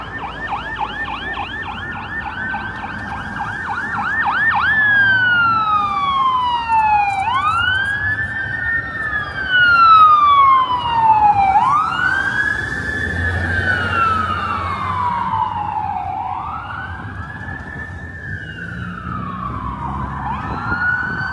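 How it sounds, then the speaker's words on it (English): Wailing fire truck sirens rise and fall in long sweeping cycles on a Toronto street, loud and close, with a second siren overlapping and traffic rumble underneath. "We got sirens."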